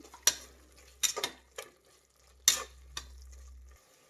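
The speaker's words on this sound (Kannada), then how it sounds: "ಜೀರಿಗೆ ಪುಡಿ ಮತ್ತು ಗರಂ ಮಸಾಲ 1/4 ಟೀ ಸ್ಪೂನ್ಗಿನ ಕಮ್ಮಿ ಹಾಕಿ ಮಿಕ್ಸ್ ಮಾಡಿ" A spoon scrapes through a pan as cumin powder and garam masala are stirred into a tomato bath mixture. Several short, close scraping strokes come in uneven bursts with quiet gaps between them, and no one speaks.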